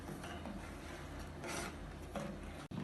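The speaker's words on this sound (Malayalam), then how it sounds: "ഇത് ഇളക്കി മിക്സ് ചെയ്യാം." Cooked semiya vermicelli with sugar is stirred in a pan for a custard dessert, giving soft, continuous scraping and rubbing sounds that are faint and close, with no talking.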